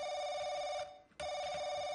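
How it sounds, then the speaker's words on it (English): A telephone rings in The Crooked Man video game, a steady electronic bell tone that drops out briefly around the middle and then resumes, loud and alone with no talk over it. "Oh, phone's ringing."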